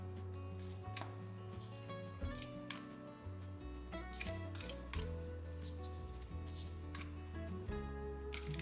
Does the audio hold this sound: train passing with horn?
no